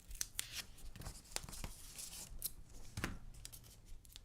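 Foam tape from Michaels being peeled off its roll, heard up close as a quiet series of short crackly rips and scratchy tugs, with no talking.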